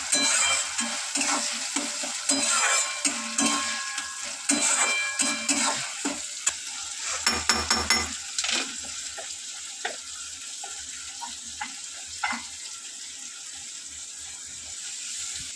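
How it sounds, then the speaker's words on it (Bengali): Tomato frying in a little oil in a kadai, with a steady close sizzle and crackle under stirring and occasional clinks, continuing throughout with no talk. "টমেটোটা দিয়ে দিলাম, একটুই তেলে"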